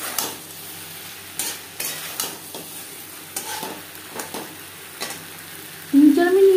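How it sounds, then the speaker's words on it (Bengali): Brinjal and potato stirred together in a pan while cooking for a fish curry, with soft intermittent scraping and stirring knocks over a low sizzle, and a louder clatter near the end. "বেগুনের সাথে আলু বেশ ভালো করে মিক্স করে দেওয়ার পর 3-4 মিনিট রান্না করব।"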